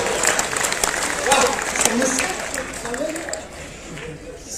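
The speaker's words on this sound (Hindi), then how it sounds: "जोरदार तालियां होनी चाहिए।" Applause from the crowd at a Hindi comedy poetry gathering, a loud wash of many clapping hands with voices mixed in, easing off slightly toward the end.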